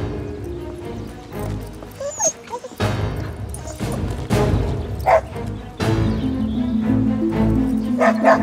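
A dog barks and yips in short sharp bursts, with some whimpering mixed in, close and fairly loud over a busy background of clatter and movement.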